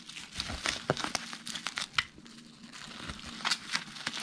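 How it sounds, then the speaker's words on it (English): Bubble wrap crinkling and crackling as it is folded around a cardboard sandwich holding a CD, a close run of irregular rustles and small crackles with no talking. "And then you're gonna take your piece of bubble wrap."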